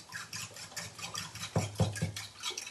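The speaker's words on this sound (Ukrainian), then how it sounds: "Окремо до яєць додаємо сіль та чорний мелений перець. Збиваємо все виделкою." Fork whisking raw eggs seasoned with salt and ground black pepper in a bowl, a soft rapid scratchy clatter with a few louder taps against the side, close and steady with no talking.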